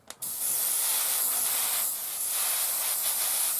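An airbrush being cleaned out blasts a loud, continuous hiss of air after a brief click at the start, steady close up with a slight dip midway.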